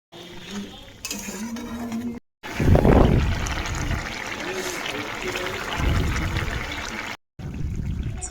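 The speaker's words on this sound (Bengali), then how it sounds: "এই দেখো আমার ঝোল ফোটা শুরু হয়ে গেছে" Curry broth comes to a boil in a pan, with a steady watery bubbling and some light clatter of cookware under a voice speaking.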